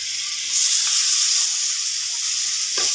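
Onion fries in butter for butter shrimp, giving a loud, steady, close sizzle with faint stirring scrapes and no talking.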